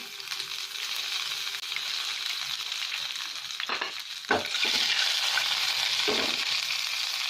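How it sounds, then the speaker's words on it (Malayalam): Dried red chillies and curry leaves sizzle in hot oil with a steady, close crackle. A few brief clatters and stirring scrapes are heard midway, and no one speaks. "രണ്ട് വറ്റൽമുളക് ഇട്ട് കൊടുക്കാം. ഇനി കുറച്ച് കറിവേപ്പില കൂടി ചേർത്ത് കൊടുക്കാം."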